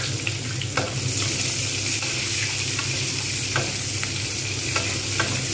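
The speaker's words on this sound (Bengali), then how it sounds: "পেঁয়াজটাকে আমি কিন্তু যতক্ষণ পর্যন্ত খুব ভালোভাবে না ভাজা হচ্ছে আমি ততক্ষণ পর্যন্ত কিন্তু আমি অপেক্ষা করব।" Onions sizzle and fry steadily in a pan for Bengali moong dal with katla fish head, with occasional louder stirring scrapes over the continuous hiss.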